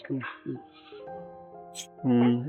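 A goat bleats several times in quick, wavering calls close by, with a final longer bleat at the end; a brief high sound cuts in between the cries.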